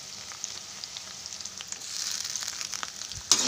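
Potatoes with the skin left on sizzle and crackle steadily in a hot pan, a continuous frying hiss with small pops that grows slightly busier toward the end, ending on a sharper clatter.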